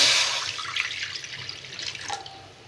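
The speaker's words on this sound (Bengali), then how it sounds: "কড়াতে আমি জল দিয়ে দেবো" Water poured into a wok on a gas stove, ready for boiling raw mangoes, a steady splashing stream that starts loud and fades as the pour thins out.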